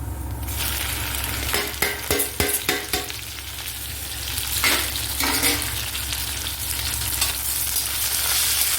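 Okra fries with cumin in hot oil in a pan, a loud, steady sizzle interrupted by several sharp clattering stirs early on, then a continuous crackle.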